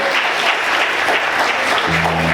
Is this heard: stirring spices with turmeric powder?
no